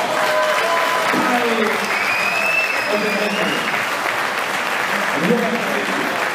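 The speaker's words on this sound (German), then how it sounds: "nochmal euer Applaus" Audience applauding at a 1963 amateur boxing match, steady clapping across the clip while a ring announcer's voice and crowd voices sound over it.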